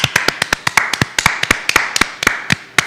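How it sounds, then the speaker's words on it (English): A group of people clapping for John at a live-streamed gathering, a quick run of sharp, closely spaced hand claps, fairly near and loud, with no talk over them. "Why don't we just clap for John?"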